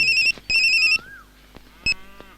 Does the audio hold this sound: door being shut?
no